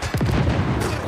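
A short, loud explosion in the video game Once Human: a sharp boom with a rumbling, cracking tail lasting about a second, heavy and close, with no speech over it.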